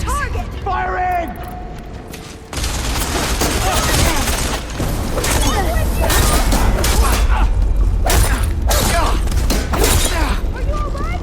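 Weapons fire in a Horizon Forbidden West battle: a loud, dense run of blasts, thuds and crashing impacts with mechanical clatter, sustained for most of the stretch, with shouted voices mixed in over the combat.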